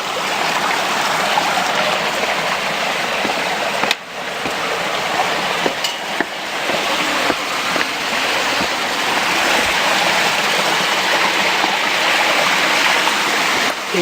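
Floodwater rushes along a stream channel beside a sports ground after heavy rain in the Ardèche near Lalevade, a steady broadband roar of flowing water, loud and continuous, with a few faint knocks and no voices.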